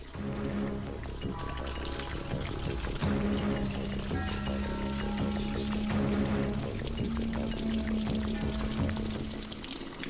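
Water pours out in a continuous stream, a steady splashing pour running throughout, with a low sustained tone beneath it.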